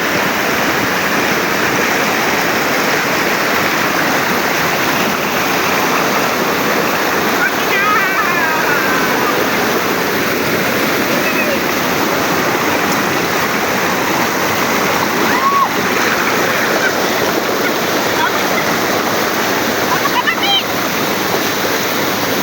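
Taytay Falls in Majayjay, Laguna roars as a loud, unbroken rush of falling water close by, with faint voices now and then beneath it.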